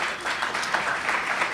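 Audience in a room gives a short, moderate burst of applause, a brief wash of clapping at middling distance.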